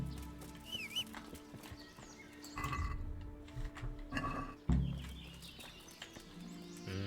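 Horse sounds from a video game: a whinny and hoof clatter rise mid-clip over a steady game soundscape with music and ambient noise, with a sharp louder burst near the end.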